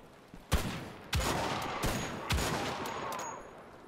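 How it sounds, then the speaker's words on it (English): Gunshots in Wolfenstein The Old Blood, four sharp reports spaced roughly half a second to a second apart, each with a short echoing tail over a quiet background, no talking. "I heard another shot somewhere."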